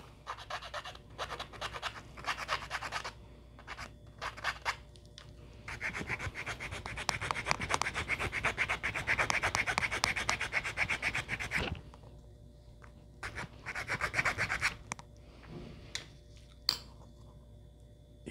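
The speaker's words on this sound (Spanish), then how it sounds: "Miren, la lima también va a los mismos 45 grados." A metal file rasps at an angle along a wooden crochet hook carved from a tree branch, close and steady, in several bursts of scraping strokes separated by short pauses.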